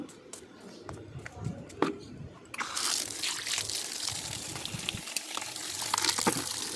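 Tap water runs in a home kitchen as utensils are washed, trickling softly at first and then gushing louder and continuously, with occasional light clinks.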